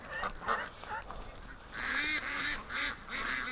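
Ducks near a barn give a run of honking, goose-like calls, fairly close and in uneven bursts, louder toward the end.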